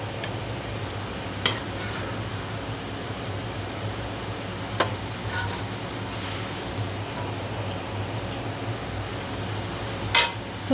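A spoon set into a served dish of lachha semai, heard as a few brief, isolated clinks spread far apart over a soft, steady background hiss.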